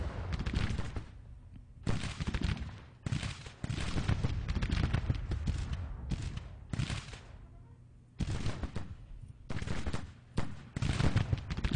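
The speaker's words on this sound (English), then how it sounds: "Now they're firing at the battery." Musket volleys crackle across a Civil War battlefield in Grand Tactician: The Civil War, repeated bursts of massed gunfire rolling in waves with brief lulls between, loud and continuous with no talk over it.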